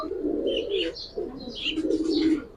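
Giribaz pigeons cooing nearby, soft throaty coos in short repeated bursts with faint chirps above, fairly quiet and close.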